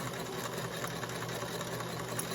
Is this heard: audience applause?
no